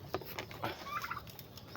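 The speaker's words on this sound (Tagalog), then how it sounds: "Dito naman tayo sa may pabo." Turkeys gobble in short bursts amid farmyard bustle, a few warbling calls rising over low background noise, fairly close.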